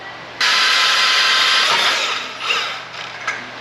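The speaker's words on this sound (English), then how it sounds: "I'm gonna run the bandsaw down the edge here on both sides" A bandsaw with a thin-kerf blade runs down the edge of metal stock, cutting flat bar for a mini gooseneck trailer; a loud, steady high screech starts abruptly and holds, wavering slightly toward the end.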